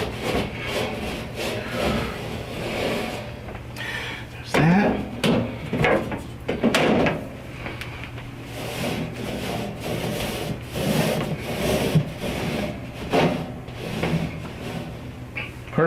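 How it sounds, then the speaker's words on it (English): Wet paper towel wiping a metal furnace grate, uneven rubbing strokes with occasional clanks and knocks, close, with some speech in the background. "I want to try to clean a little bit this off before I put it back on there, before I close up the grate"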